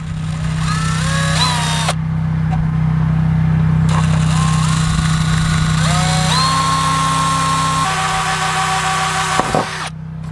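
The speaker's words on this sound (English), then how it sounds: "let's drill that hole out right there with a very small drill bit" Small 1/16 inch drill bit boring a hole in a garage door for a mail slot, a power drill whining close and loud in short bursts over a steady low hum.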